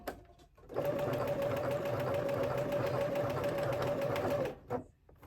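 A sewing machine runs in one steady burst of rapid stitching on a summer top for about four seconds, a fast mechanical whir with a clear hum, then stops.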